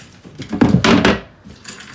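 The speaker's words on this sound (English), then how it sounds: "Keys are right here." A set of vehicle keys for the front, rear and cargo doors jangles briefly in a close burst of metallic rattling, then settles into quiet.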